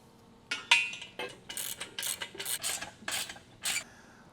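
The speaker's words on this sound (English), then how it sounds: "you can tighten them down firmly now." Bolts fastening the bench pad to the frame of a BF-60 competition weight bench are tightened with a tool: repeated short raspy ratcheting bursts, close and fairly quiet, with brief pauses between strokes.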